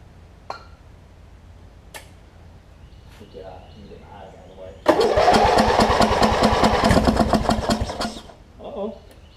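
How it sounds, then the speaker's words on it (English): A Wizard Craftsman riding mower engine with a worn carburetor, sprayed with carb cleaner, cranks loudly and chugs for about four seconds without catching, after some quiet clicks and shuffling. Its sputter fades out at the end. "let me throw a little carb clean in there and see if we can at least get it to kick over for us"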